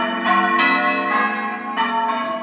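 Church tower bells rung by bell ringers for the coronation, with rich, ringing strikes overlapping in a slow, uneven sequence and long sustained tones, clear and fairly close with no talk.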